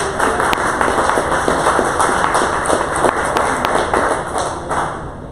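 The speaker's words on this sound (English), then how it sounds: "please give him a round of applause" A crowd applauds, dense rapid clapping that stays loud and steady throughout before easing slightly at the end.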